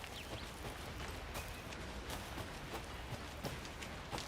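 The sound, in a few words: rain in the video game Alan Wake II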